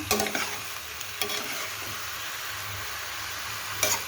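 Cabbage fries in a pan for Bengali badhakopir dalna, a dense, even sizzle close by, punctuated by a few brief stirring clatters at the start and end, with no speech.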